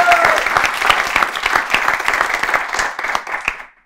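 An audience applauds after a children's poem recitation, a dense burst of many hands clapping that fades out toward the end.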